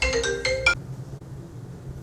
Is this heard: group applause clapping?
no